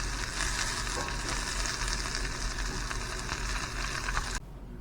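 Morel mushrooms frying in a pan, a steady loud sizzle running almost throughout before dropping off abruptly near the end, with no talking.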